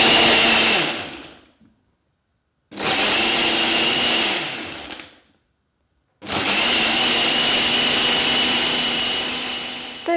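A blender whirs through a fruit and vegetable smoothie in three loud bursts, the second and third separated by complete pauses, the final run lasting longest and close to the listener.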